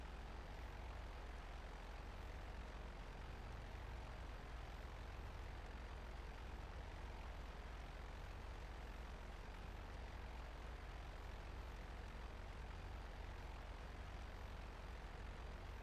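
An aircraft engine cruising in flight in GTA gives a steady, unchanging drone with a broad rushing hum, faint and constant for the whole stretch with no voices.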